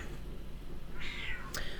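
A cat gives a single short meow, fairly faint against a steady low background hum, followed by a brief chirp.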